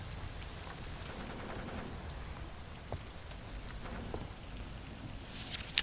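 Steady rain patters on surfaces, a soft constant hiss with scattered drops, fairly quiet and with no voices.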